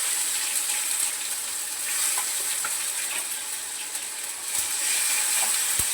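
Mustard seeds, cumin, garlic and tomato sauté in a hot pan, giving a steady bright sizzle that runs the whole time, with a few faint clinks of a utensil.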